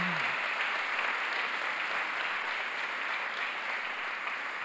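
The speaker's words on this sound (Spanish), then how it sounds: "Dale un fuerte, pero fuerte aplauso a Jesús." A church congregation breaks into sustained, even applause that holds at steady loudness, a dense wash of clapping from a full room with no voices standing out.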